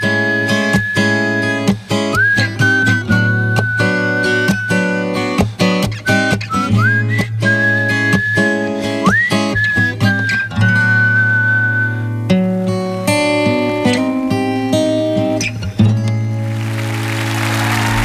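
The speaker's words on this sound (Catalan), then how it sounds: "I com t'arrisques xiulant?" A man whistling a song live on a Catalan radio programme, a clear melodic tune carried over steady instrumental backing for most of the stretch before the whistling stops near the end.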